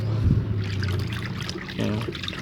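Antracol fungicide is stirred into a container of water, giving a soft, continuous trickle and swish of liquid up close. A low hum runs underneath and there is a brief vocal sound.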